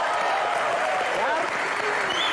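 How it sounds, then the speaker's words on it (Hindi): An audience at a live stage show claps continuously in an even, steady applause that fills the whole stretch, with no voices over it. "तो एक बार फवाद के लिए जोरदार तालियां।"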